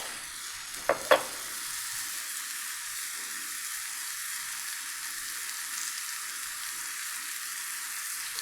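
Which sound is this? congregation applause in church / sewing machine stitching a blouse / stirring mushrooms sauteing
stirring mushrooms sauteing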